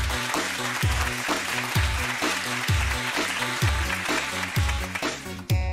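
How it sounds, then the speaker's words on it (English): Church congregation applauding for brother Isaiah Kid, the clapping spread beneath a loud steady instrumental backing with a repeating bass pulse and rhythmic beat, music dominating throughout. "Let's give our brother, Isaiah Kid, a big round of applause"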